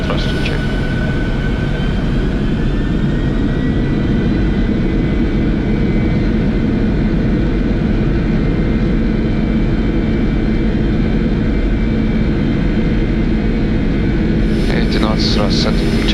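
Boeing 747-400 jet engines spooling to takeoff thrust on departure from Mumbai, a loud, steady broadband roar heard from the cockpit, unbroken throughout, with a brief higher tonal burst near the end.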